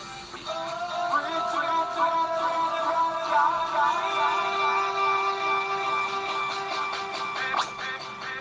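A music track plays through the Virtual DJ software echo effect, its sounds repeating and trailing off in echoes, a steady layered tone held throughout with no talking.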